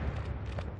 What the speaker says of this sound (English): we can hear the sound of gunfire, which is from the simulated shore bombardment being carried out by the naval guns.